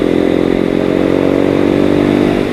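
A Yamaha M-Slaz motorcycle engine hums loud and steady while riding, a close, even buzzing drone held at constant revs throughout with no speech.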